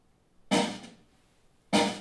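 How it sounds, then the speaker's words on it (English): A soloed snare drum track from a studio recording session: two sharp, loud snare hits about a second apart, each with a bright crack and a short roomy decay, with near silence between. "it sounds like somebody's out there hitting a snare drum."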